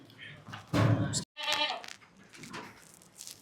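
Goats bleat loudly and close by at a goat farm in Khed, mixed with people talking and a brief thud.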